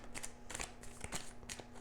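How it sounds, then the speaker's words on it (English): Tarot cards are shuffled by hand in quick riffling bursts, crisp papery flicks repeating close up with little else around them. "we will definitely shuffle and then cut the cards"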